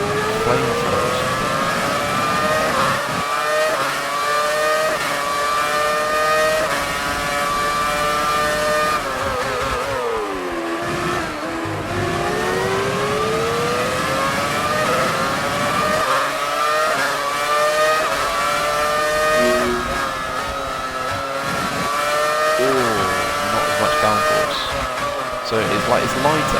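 Loud, continuous roar of a Formula 1 car engine in the F1 2019 racing game, with pitch sweeping up and down through gear changes across wet-weather laps, while a voice talks over it.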